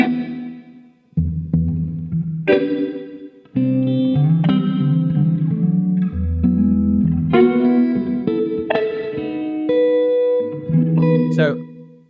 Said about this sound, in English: quite a nice sounding digital reverb